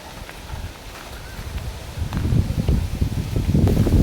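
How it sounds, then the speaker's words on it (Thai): Strong wind gusts through a forest, rustling leaves in a broad, rushing wash that swells louder over the last half, close and continuous. "โอ้โห ลมอย่างแรงเลยทุกคน"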